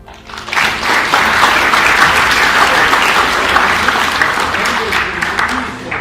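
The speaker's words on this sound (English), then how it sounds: "And you should give yourselves a clap for that." A class of Grade 8 students in a science lesson claps together, a dense, steady burst of applause that starts quickly, holds for about five seconds and then tapers off.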